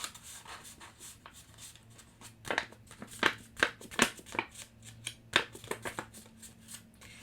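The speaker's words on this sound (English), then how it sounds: "I'm going to fold my next plate." Paper plate being folded and creased by hand for an ice cream craft, with soft scattered rustles and several sharper crinkling presses, close and fairly quiet, no talking.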